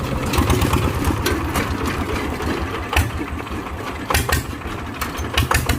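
Yanmar engine running at a car workshop, a steady low rumble that idles throughout with a few sharper bursts and knocks over the drone, fairly close, with no talk.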